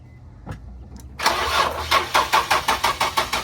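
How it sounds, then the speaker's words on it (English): A Nissan 350Z with a VQ engine cranks during a fuel pressure test, the starter's rhythmic churning pulses loud and close for about two seconds after a few faint clicks, without catching. "So he cranked it with the gauge going and fuel pressure at 0."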